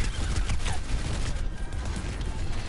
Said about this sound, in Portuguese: Só alguns fogos de artifício.